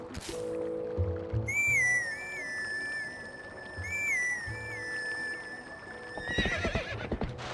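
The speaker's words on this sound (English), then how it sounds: "Alright, let's call the horse again." A sharp two-tone whistle calls a horse in The Legend of Zelda: Twilight Princess, followed by the horse neighing and whinnying, with hoofbeats clopping underneath in a game-like soundscape.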